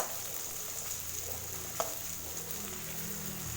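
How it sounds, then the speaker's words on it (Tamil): Small shallots sautéing in a pan give a soft, steady sizzle with faint stirring scrapes and one brief clink near the middle, no voices. "வெங்காயத்தை நல்லா வதக்கி விட்டுக்கலாம்."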